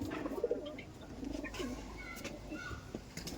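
Giribaz pigeons in a loft coo softly in low, rounded bursts, with faint chirps and rustling around them and muffled background noise.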